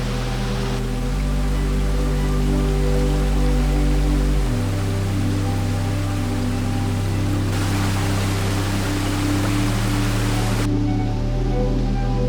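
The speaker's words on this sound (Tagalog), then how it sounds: "Sigurado ako ngayon lang kayo makakakita ng ganitong klaseng waterfalls." A hot spring waterfall in the Cordillera pours in a steady, loud, broadband rush that holds unbroken throughout, with a few low tonal shifts running underneath.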